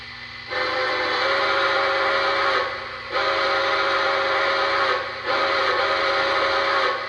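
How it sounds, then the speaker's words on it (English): Steam-style chime whistle of a Lionel Legacy Polar Express model train set, blown in three long, loud, steady blasts separated by brief pauses. "we can hear the 5 different whistles"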